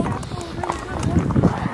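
Horse hooves clip-clop in an uneven rhythm during a first-time horseback ride, with several people talking over the steps.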